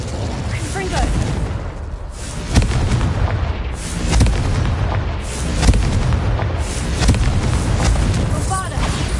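Explosive spell blasts in the game Hogwarts Legacy, repeated booming bursts over a dense, loud rumble of combat noise, with a voice speaking over the action.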